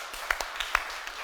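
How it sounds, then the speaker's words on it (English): A lone person in an audience at a Stornoway event claps a handful of times, about five sharp, moderately distant slaps at an uneven pace over a quiet room. "the first clap comes for the feckin' host"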